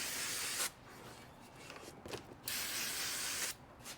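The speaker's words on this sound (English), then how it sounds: "We'll spray it down real good." Brake cleaner sprayed onto a new brake rotor for a Kia Soul, two sharp hissing aerosol bursts with short pauses and faint rubbing between them.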